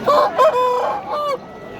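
A rooster crows once up close at a market bazaar, a loud, drawn-out call that rises and then trails off.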